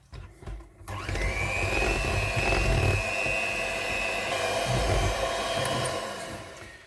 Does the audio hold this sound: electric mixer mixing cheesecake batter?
yes